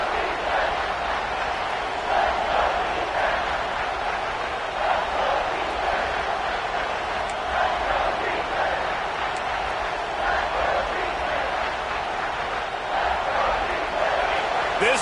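Loud, steady roar of a packed college football stadium crowd at Oregon, rocking to force a false start, a dense wash of noise throughout with occasional shouts over it.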